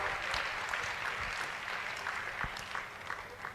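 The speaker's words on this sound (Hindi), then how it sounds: "जोरदार ताली बजाओ, ताली में कंजूसी कर रहे हो आप लोग" A gathering at a Jain spiritual question-and-answer session claps faintly and steadily, a soft distant patter of applause with a few louder individual claps, no voices heard.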